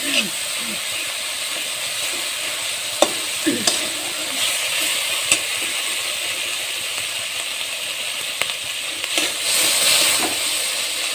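Spice masala frying in a pan while making ghugni, a bright continuous hiss and sizzle up close with sporadic stirring clicks, a voice briefly heard at the start.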